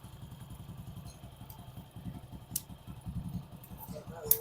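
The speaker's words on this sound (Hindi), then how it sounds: "बाइक में भी ऐसा इंजन से सनसनाहट का साउंड आ रहा है" A Hero motorcycle engine idles with a rapid, even low chugging and a faint whirring note, steady and close, with a few light clicks and ticks near the end.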